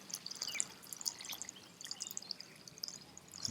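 Wine leaking from a failed container on a homestead, a faint scatter of fine drips and trickles, irregular and continuous, quiet and close with no talk.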